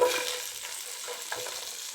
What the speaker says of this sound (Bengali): এখন এই তেলের মধ্যে পেঁয়াজ রসুন কাঁচামরিচ দিয়ে দেব।